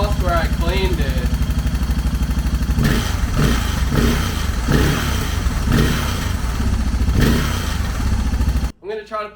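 Suzuki DR650 motorcycle engine running after a carburetor rebuild, with an exhaust leak: a loud, close, steady idle with a pulsing beat, a few revs mid-way, and someone talking over it before it cuts off.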